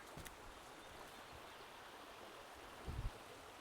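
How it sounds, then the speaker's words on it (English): A gentle creek flowing after rains along the Canada Creek Trail near Suches, Georgia, a faint steady wash of babbling water with a soft thump or two. "But just the gentle babbling creek."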